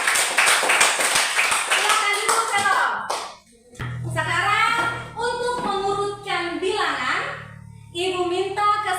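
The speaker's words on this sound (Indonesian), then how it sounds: "Tepuk tangan untuk Velo." Classroom applause for a student, a burst of many hands clapping rapidly for a few seconds, followed by a teacher speaking and children's voices.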